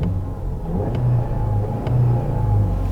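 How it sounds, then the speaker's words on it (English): A 2021 Skoda Octavia RS engine idles and runs steadily at low revs in comfort mode, with a smooth, even rumble and slight rises in pitch. "now it's just a normal, regular sound of the engine"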